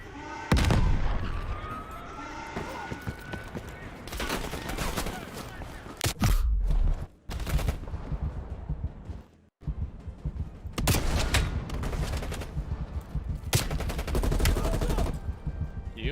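Gunfire in Call of Duty Black Ops Cold War: dense, loud automatic bursts and heavy booming shots at close range, broken by brief pauses, with occasional voices under the fire.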